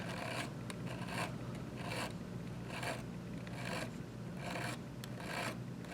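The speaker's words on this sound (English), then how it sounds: "I need to just get in there and file it nice and clean." A metal file rasps across a chewed-up rivet head, cleaning it up in steady repeated strokes, roughly one every half second, close and clear with no voices.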